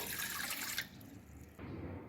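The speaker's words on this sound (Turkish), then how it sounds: "Hamurumu yoğurmak için 2 su bardağı ılık suyumu alıyorum." Warm water is poured into a glass for bread dough, a soft continuous liquid rush. It changes tone partway through as the glass fills, and is faint and close with no talking.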